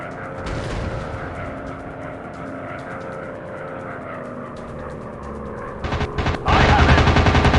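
Machine gun fire from enemy bombers in a flight combat game, with aircraft engine drone running throughout and rapid bursts of loud gunfire near the end.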